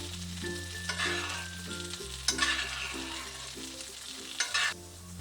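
A chop fries in a hot pan, a steady sizzle running throughout with louder bursts of spitting as fat is spooned over it again and again, close and with no talking.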